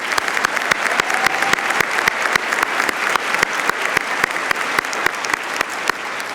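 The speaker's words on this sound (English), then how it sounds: "Let us give applause to Unity's valedictorian, Brittany Stadig from North Carolina" A commencement audience at Unity Environmental University gives steady applause for the valedictorian. Sharp, regular claps stand out over a softer, continuous wash of clapping that runs the whole time, without talk.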